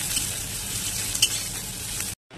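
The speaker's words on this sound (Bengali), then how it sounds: "পেঁয়াজটা একটু হালকা লাল করে ভেজে নিয়ে উচ্ছে দেবো" Onion and bitter gourd frying in hot oil in a pan give off a steady, close sizzle that runs evenly and then cuts off abruptly near the end.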